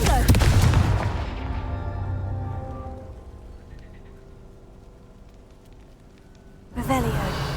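A Confringo fire spell blast in Hogwarts Legacy, a loud booming burst at the start that rings out and slowly decays, followed by a second sharp blast near the end, with a voice calling out over it.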